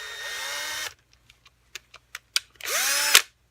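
A power drill threads holes in a plug while making pins, with two sustained whirring runs of about a second each, separated by a string of sharp clicks and taps.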